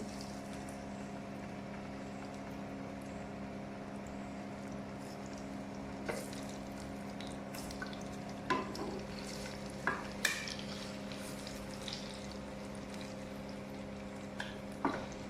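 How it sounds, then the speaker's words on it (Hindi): Chicken boti masala mixture cooks in ghee in a pot with a soft, steady sizzle under a constant low hum, broken by a few scattered stirring knocks and clinks toward the end. "अभी मैंने इसमें 3 चम्मच घी डाला है और अभी मैं ये सारा डालने लगी हूँ इसका जो मिक्सचर है।"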